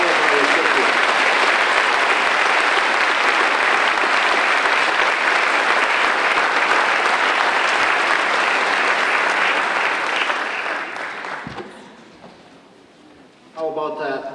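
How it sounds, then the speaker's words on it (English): Sustained audience applause at a 2022 scholarship awards ceremony, loud, dense clapping for about ten seconds, then it fades away and a voice begins talking. "Let's give a big round of applause for this last group and all of our recipients."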